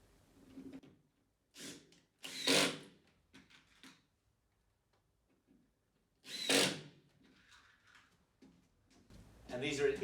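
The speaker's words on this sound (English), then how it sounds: "now I'm going to screw them together to make them one cohesive unit" A power drill drives screws through pre-drilled, countersunk holes to join plastic home dance floor panels, heard as two short, loud whirring bursts separated by quiet.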